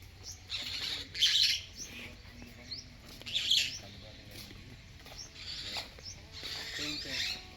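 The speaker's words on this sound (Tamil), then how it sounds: "எல்லா குருவிங்களும் கத்துதானா, ஒரு குருவியும் பார்க்க முடியல." Sparrows chirp unseen on an African safari outing, giving repeated bright, high twittering calls in several bursts over a steady low background hum, moderately close and continuous throughout.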